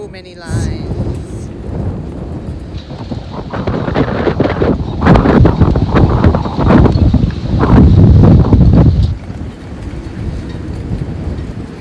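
Strong wind buffets a moored boat tied with extra lines in North Carolina, loud rumbling gusts battering the microphone that swell in the middle and ease off toward the end.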